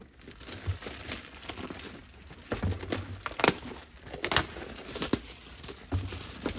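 Plastic wrap crinkles and tears as it comes off a boxed fluorescent under-cabinet light fixture, close-up bursts of crumpling and rustling in uneven handfuls, moderately loud, with no talking.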